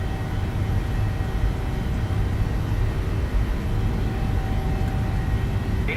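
Steady, loud roar of airliner jet engines spooling up on the takeoff roll in Microsoft Flight Simulator 2020, a Norwegian flight between Oslo and Stockholm, continuous and even throughout with broad low rumble.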